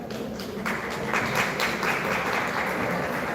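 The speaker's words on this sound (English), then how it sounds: "Applause for our ladies" Audience applause at a secondary school annual awards and anniversary celebration, a steady dense wash of clapping from a crowd that holds evenly for a few seconds, with no talking over it.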